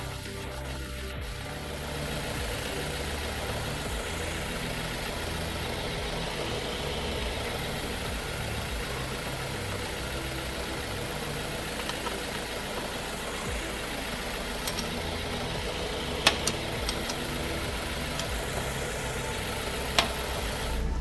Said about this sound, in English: Now that the engine is running, we need to carefully fill it a second time until the oil is visibly running out again.